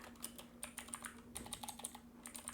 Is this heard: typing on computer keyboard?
yes